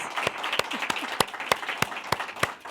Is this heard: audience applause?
yes